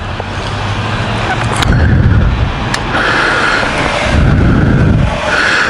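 Ducati DesertX motorcycle engine firing up and idling nearby, a loud rough rumble that swells in two bursts of revving amid general dealership background noise.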